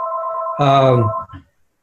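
A telephone rings with a steady electronic tone during a sit-down interview, then a voice cuts in over it and the ring stops.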